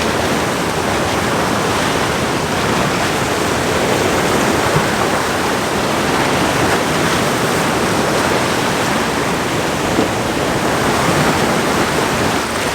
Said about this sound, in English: what I want is waves draping coming in from the right